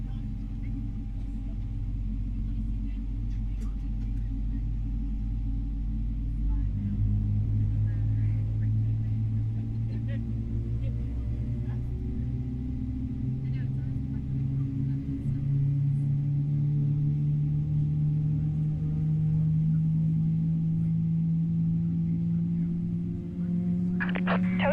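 Boeing 777-300ER engine rumble in Microsoft Flight Simulator 2024, a steady deep drone with slowly rising tonal whine, heard close with continuous low roar throughout.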